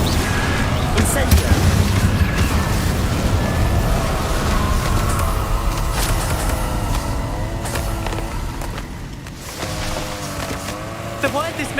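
Incendio fire spell blasts in Hogwarts Legacy roar and boom continuously amid battle noise, with a spoken voice over the dense, loud mix.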